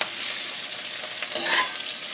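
Peppers and onions frying in oil in a pan, with a slotted spoon scraping and lifting them out: a steady close hiss of sizzling with brief scrapes and clinks of the spoon partway through.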